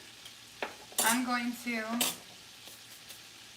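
Battered seafood frying in a pan of hot oil for a copycat Red Lobster feast, a soft continuous sizzle under a woman's nearby speech, with a light clatter of a utensil.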